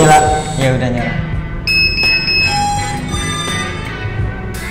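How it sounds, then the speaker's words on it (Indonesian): A drone's motors and ESC beep during calibration, giving a few short electronic tones at different pitches over a low background hum. "kalau suara ini tadi yang beep terakhir itu, nah itu kalibrasi motornya, motor sama ESC"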